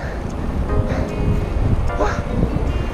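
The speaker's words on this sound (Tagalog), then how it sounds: "Headwind." Steady broadband wind roar buffeting the microphone while cycling into a headwind, a continuous rushing noise with low rumble throughout, loud and close.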